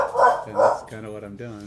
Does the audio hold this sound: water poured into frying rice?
no